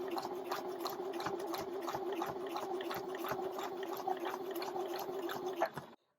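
A sewing machine stitches a pocket onto fabric, making a steady mechanical whir with a fast rhythmic ticking of the needle. It runs close and even for several seconds, then stops abruptly.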